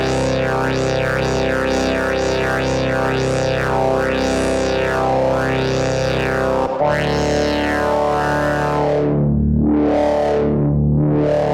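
A distorted Baby Audio BA-1 synthesizer drones with its chorus effect on, its tone sweeping up and down in repeated waves, then deeper, slower swoops after a brief cut.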